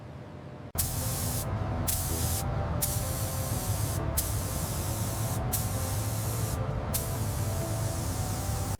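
Spray gun lays a metallic blue coat onto a 1970 Ford Mustang Boss 429 under restoration, a loud, close, steady hiss broken by several short pauses between passes.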